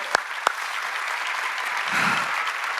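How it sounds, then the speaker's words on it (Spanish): A church congregation claps for the Lord, a couple of sharp single claps up front before a full, steady round of applause fills the room. "Demos un aplauso al Señor."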